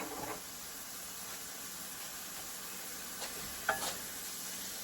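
Onions softening in a pan for a kale and wild rice casserole, a faint steady sizzle with occasional soft stirring scrapes, quiet and continuous throughout.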